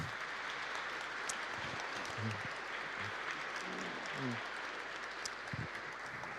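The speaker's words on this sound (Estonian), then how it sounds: "Teeme suure aplausi." A church congregation applauds in a large hall, a steady, dense wash of clapping that stays even and moderately distant throughout, with a few low thumps.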